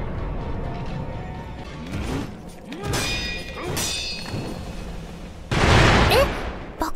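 Rapid bursts of firecracker pops from the video game Sekiro, a few scattered cracks then a loud crackling cluster near the end, mixed with game sounds and talking.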